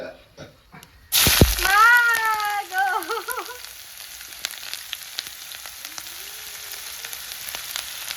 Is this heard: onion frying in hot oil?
yes